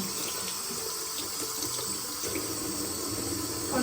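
A tap runs steadily into a sink while makeup brushes are rinsed, giving a close, continuous hiss of flowing water with faint splashes and brief handling clatter, and no talking.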